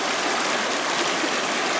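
Lick Run, a small stream in the Laurel Highlands, rushes steadily beneath a footbridge, a close, continuous broadband wash of flowing water with no voices.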